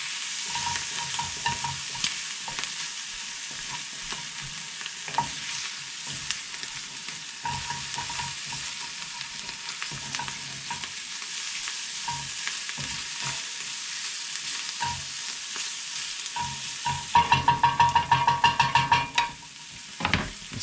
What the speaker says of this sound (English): This bacon is frying up nicely.